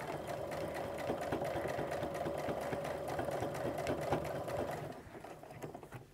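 A sewing machine stitches fabric for an apron, starting with a backstitch, and runs as a steady, close mechanical whir with rapid needle rhythm for about five seconds before slowing and stopping.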